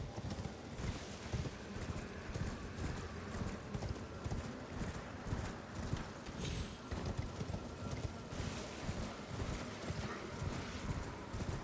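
Steady, rhythmic clip-clop of horse hooves galloping continuously in the video game Elden Ring over a dense background, with no pauses.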